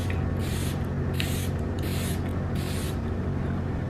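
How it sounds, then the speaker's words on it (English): Charlotte Tilbury makeup setting spray misted in several short bursts, four quick hisses spaced about half a second apart over a steady low background hum. "I grabbed my Charlotte Tilbury set spray."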